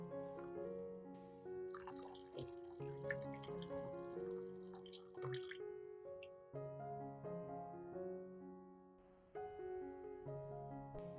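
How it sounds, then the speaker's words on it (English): Hot water poured over garlic cloves in a bowl, a soft continuous trickling and splashing pour with bubbly liquid sounds and faint musical background, fairly quiet throughout. "Place garlic in a bowl, pour the hot water in to cover"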